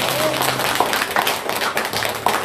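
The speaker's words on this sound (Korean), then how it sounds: "박수로 하나님의 영광 돌립시다." A church congregation claps at a New Year's Eve worship service, giving sustained, dense applause with the rhythmic patter of many hands over a steady murmur of the room.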